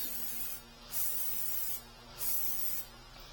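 Brake cleaner is sprayed onto the rear brakes of a Jaguar XE in repeated short hissing bursts, fairly quiet and separated by brief pauses.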